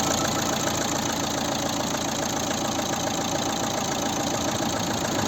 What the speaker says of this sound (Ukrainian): Мотор ідеально рівно і тихо працює, без посторонніх звуків, шумів.